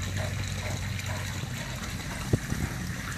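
Water runs steadily while a dog's feet are rinsed clean of pond mud, a continuous low trickling and splashing close by with a brief bump partway through.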